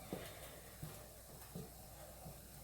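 Chocolate and butter melting in a pan on the burner give a soft, steady sizzle with a few faint taps of stirring, close and quiet.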